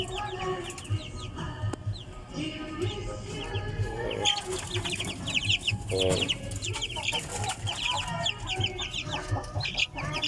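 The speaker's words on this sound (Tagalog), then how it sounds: "ito yung mga sisiw natin dito" Two-week-old heritage chicken chicks, kept as breeders, peep and cheep busily close by, with adult hens clucking amid steady farmyard background noise.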